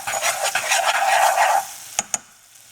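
Flour being stirred into a pan for a chicken and cheddar bruschetta: a steady, close scraping and stirring rustle for about a second and a half, then two short sharp clicks of the utensil.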